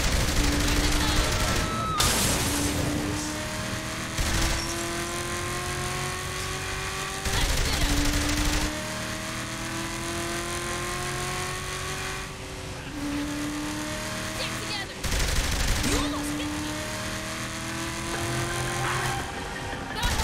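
In Saints Row: The Third, bursts of rapid gunfire come in loud, dense volleys several seconds apart, layered over car engines climbing through their gears and game voices.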